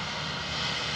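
A Boeing 757 jet airliner from Oslo at Dublin Airport gives off a steady, loud engine drone with no break, heard as one continuous roar for about a second.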